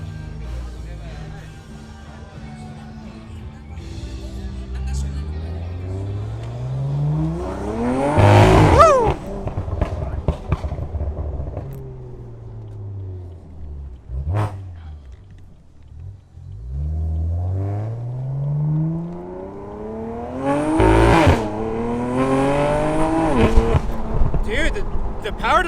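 A BMW F83 M4 convertible with the roof off accelerates hard twice, each time a rising engine wail climbing through the gears before easing off, heard from inside the car and loud, with talk over the quieter stretches.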